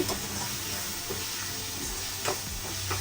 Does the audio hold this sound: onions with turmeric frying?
yes